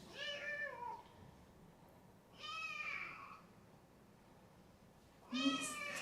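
A paralyzed kitten meowing in a quiet room, three separate clear, high-pitched meows spaced a couple of seconds apart, close and fairly loud against a faint background.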